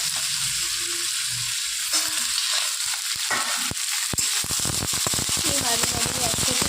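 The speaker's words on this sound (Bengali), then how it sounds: "তেলের মধ্যে একটু হালকা করে নেড়ে নিচ্ছে" Potatoes are stirred in hot oil in a pan, a loud crackling sizzle with sharp popping bursts and scraping stirs, a faint voice in the background.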